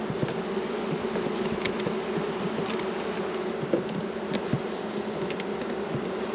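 Honeybees buzzing steadily as a beehive's boxes are pried apart during varroa treatment, a dense continuous drone close by with occasional light knocks and clicks of the hive parts.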